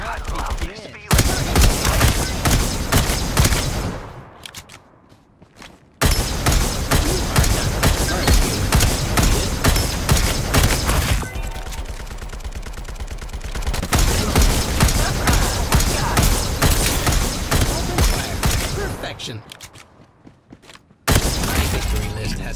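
Gunfire in the battle royale game Farlight 84: loud, sustained automatic bursts run through most of the stretch, broken by a few short pauses, with occasional talk underneath.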